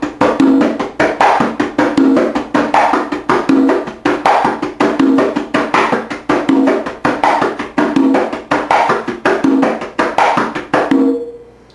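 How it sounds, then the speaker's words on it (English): Conga tumbao pattern with a fingertip stroke in place of the second open tone, hand strokes repeating in a steady looping rhythm, close and loud, ending with a ringing final stroke. "you're going to hit the first open tone and then substitute the second open tone for a fingertip."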